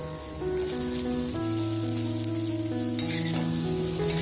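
Potatoes fry in hot oil with a continuous close sizzle and crackle, joined by a steady background tune and a few brief stirring rattles.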